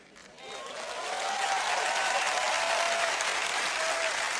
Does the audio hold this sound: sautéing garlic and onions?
no